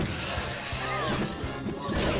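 Heavy smash attack hits land in a Super Smash Bros. Melee match, a few sharp impacts over busy game sounds and crowd noise.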